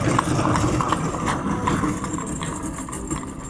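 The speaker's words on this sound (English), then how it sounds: "Oh, there's more just random ass horses." Horses clip-clopping on pavement at a farmers market, a steady stream of hoof beats with an engine humming alongside, fairly loud and close.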